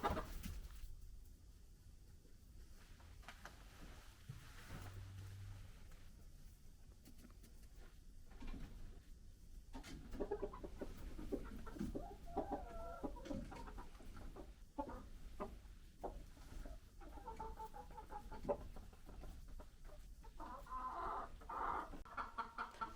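Chickens cluck intermittently over a steady background hum, soft scattered calls that grow busier toward the end, with no one talking.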